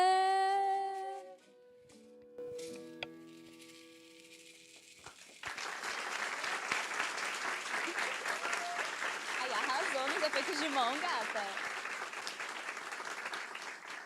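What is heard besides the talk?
audience applause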